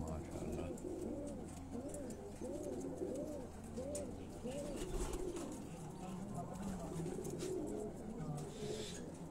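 Pigeons on a rooftop coo in a steady repeating rhythm, moderately close, over a constant background hum, with faint talk now and then.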